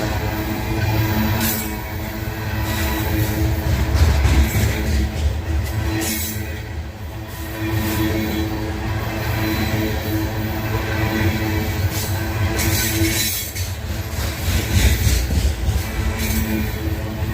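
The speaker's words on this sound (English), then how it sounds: "We got a coal train coming through." A coal train passes close by, a sustained deep engine rumble and rolling wagon noise with periodic bursts of rattling and a hint of wheel squeal, swelling slightly as it goes by.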